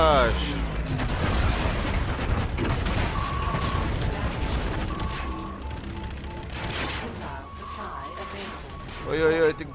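Dense gunfire and booming blasts in the video game Call of Duty: Infinite Warfare, with rapid automatic bursts, heavy thuds and mechanical clatter crowding each other for about ten seconds while someone talks over the action.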